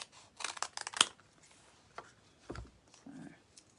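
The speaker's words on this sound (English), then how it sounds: "Let me just grab my adhesive scissors." Adhesive scissors cutting a foam adhesive sheet, a few quick sharp snips clustered early, then scattered handling rustles and a soft thump, quiet and close with no talking.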